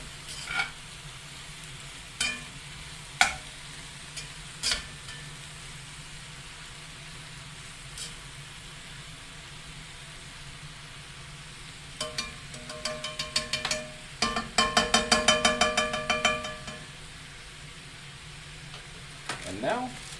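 Vegetables stir-frying in a pan for cheesy cauliflower chicken, a soft steady sizzle with scattered clanks of a utensil and a busier burst of scraping and tossing near the end.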